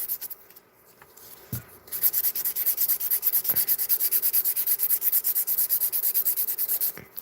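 Rapid back-and-forth rasping of a file smoothing the top of an acrylic nail, a steady rhythmic scratching that runs continuously for several seconds after a brief quieter start, close and clear with no talk.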